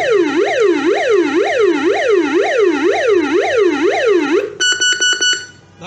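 An RV 971A burglar alarm on a bank ATM cabinet, set off by its vibration sensor, wails loudly with a rapid rising-and-falling electronic siren for about four and a half seconds, then breaks into a string of short beeps.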